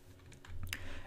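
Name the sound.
mashing keys on a computer keyboard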